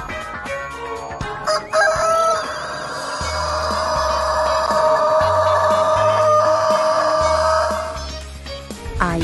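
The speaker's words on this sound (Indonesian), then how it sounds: "Ayam jantan." A rooster crows a long, loud cock-a-doodle-doo that holds steady for several seconds, close by, with quiet background music underneath.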